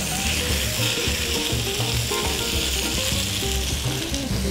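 Sausages sizzle steadily in a hot pan, a loud, continuous crackle and hiss with bright spattering pops throughout, close up and with no voices.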